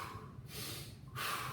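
Two strong breathy bursts, a sharp exhale followed by another, heavy and close during a bent-over row workout, with no talking.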